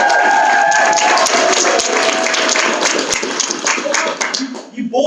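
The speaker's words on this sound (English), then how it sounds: "our game will begin with a rapturous round of applause!" An audience applauds at an improv comedy show, dense clapping that starts at full strength and thins slightly toward the end, close and loud, with a few cheers mixed in.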